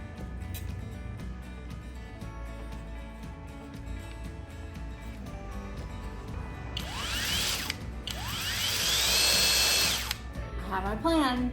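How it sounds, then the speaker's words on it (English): Hoto 12-volt brushless drill running in a garage workshop, clicking ratchet mechanics early, then loud whirring bursts of the motor spinning up and down near the end, close by. "This Hoto 12-volt brushless drill has an LED smart screen and pulse or self-selecting dual mode"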